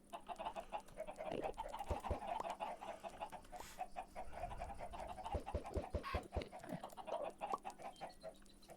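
Chickens clucking inside a video game, a busy run of short clucks and squawks with sharp pecking or tapping sounds scattered through, steady and fairly close with no talk over them.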